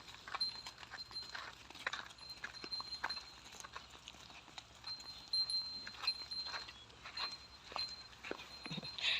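Cattle let out to graze on a fresh morning, hooves stepping over ground in a soft irregular walking rhythm, faint and close, with quiet rustling and no talk.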